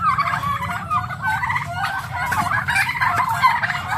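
Close, continuous gobbling and squabbling calls from farm fowl, with roosters fighting, form dense, agitated chatter over low background rumble, with no talking.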